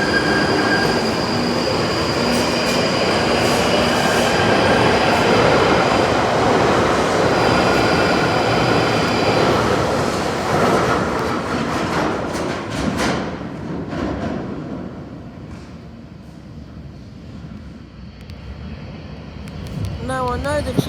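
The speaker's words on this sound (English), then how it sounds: "here's this Northern Line train leaving Tooting Broadway on its way to Morden" A London Underground Northern Line train pulls out of Tooting Broadway station toward Morden with a loud, rumbling roar and squealing wheels. The noise slowly fades into the tunnel, leaving quieter platform ambience and a brief rising whine.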